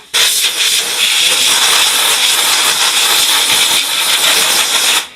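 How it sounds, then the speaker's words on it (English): Compressed air from an air compressor hose gives a loud, steady hiss for about five seconds, blowing excess gasoline vapor away, then cuts off sharply, close and without talk. "I suppose I could use the air hose to blow some of that excess gas out of the way there"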